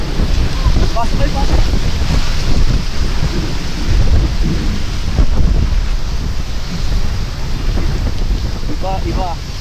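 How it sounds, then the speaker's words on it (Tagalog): Heavy rain pours down in a constant roar with gusting wind buffeting the microphone and a low rumble of thunder underneath at a campsite, voices faint in the background. "Grabe, lamig. Ang lakas ng ulan."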